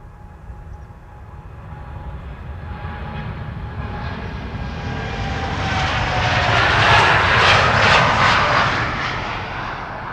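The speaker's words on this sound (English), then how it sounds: "It's a 7879 Dreamliner. Spooling up now" A six-year-old Boeing 787-9 Dreamliner at Amsterdam Schiphol spools its engines up for takeoff: a steady broadband roar that swells to a loud, rushing peak near the end before easing slightly, with no voices.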